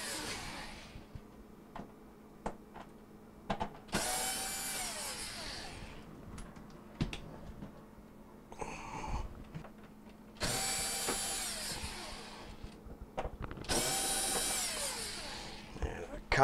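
Power driver removing Torx and Phillips bolts from a Frigidaire dishwasher control panel, several short whirring bursts with clicks and clatter of handling between them, close by.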